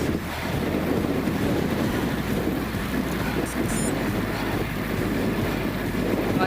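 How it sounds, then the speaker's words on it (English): Strong wind buffets the microphone while cycling on a road in chilly weather, a continuous low roar, gusting unevenly with no talking. "It's a little bit windy today"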